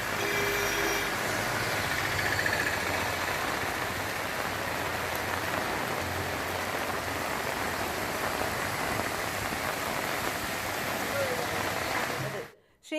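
Heavy rain pours down steadily as a dense, loud wash of drops that holds for many seconds, then cuts off abruptly at the end.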